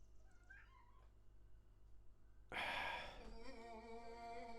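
A pet cat meows loudly and close by in a quiet room, one drawn-out, wavering call following a faint earlier meow, with no talking.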